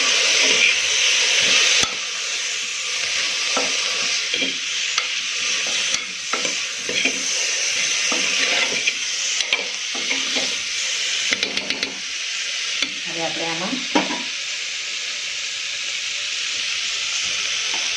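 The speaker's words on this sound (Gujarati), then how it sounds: "મસાલા સાથે આપણે બધા જ શાકને બરાબર મિક્સ કરી દઈશું." Vegetables and spice masala are stirred in a hot pan for a Gujarati-style fada khichdi: a steady sizzle and hiss, with repeated scraping, clicks and knocks of the spoon against the pan throughout, and no talking.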